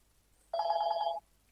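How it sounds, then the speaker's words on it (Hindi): A telephone ringing with one steady electronic trill of under a second, close and clear against a quiet background, followed by the start of another ring. "फोन आ गया मेरा"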